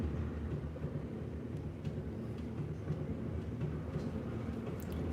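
A Yamanote Line train rumbles over a Tokyo hotel built beneath the railroad tracks, a continuous low, heavy roar filling the room with faint rattling on top.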